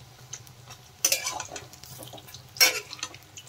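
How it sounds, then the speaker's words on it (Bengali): Pointed gourd (parwal) pakoras frying in a pan, a soft oily sizzle under two sharp bursts of turning and scraping with a utensil, close and without speech. "পকোড়াগুলো আমি ভালো করে ভেজে নিচ্ছি লাল লাল করে"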